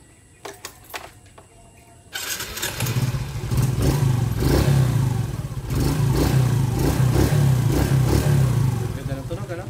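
A 20-year-old motorcycle, just given an oil change, is started after a short quiet stretch with faint clicks, then settles into a loud, steady idle with a low rumbling thump that holds to the end.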